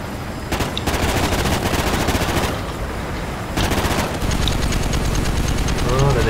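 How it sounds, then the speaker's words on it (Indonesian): Bursts of rapid automatic gunfire from Call of Duty: Ghosts play loud and close, separated by short lulls. A voice speaks faintly underneath. "Oh, ada yang tembak."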